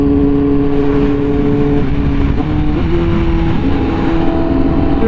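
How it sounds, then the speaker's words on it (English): A Honda Fireblade RR-R SP motorcycle fitted with an SC Project exhaust roars loud and close at high speed, its engine note holding a steady howl that rises slightly partway through. "Dude, this bike sounds so good."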